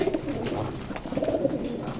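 Pigeons coo steadily inside a loft, soft overlapping calls from several birds forming a continuous murmur with no talking.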